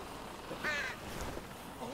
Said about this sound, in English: Just those fucking crows.